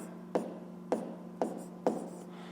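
Numbers are written by hand for a fifth-grade maths exercise, with four quick, soft pen strokes spaced about half a second apart, faint and close against a low steady hum.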